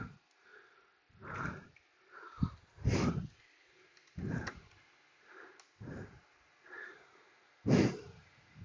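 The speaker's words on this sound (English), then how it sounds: "Sorry for all the breathing." Heavy, effortful breathing from someone working alone on a 2008 Toyota Camry during an evaporator core installation, coming in close, loud, irregular puffs and sniffs roughly every second with quiet gaps between.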